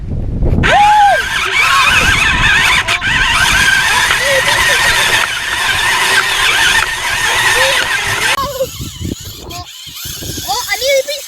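A Mitsubishi RC car drives with a whirring motor and skidding, a steady close buzz with pitch swoops, while people talk over it throughout.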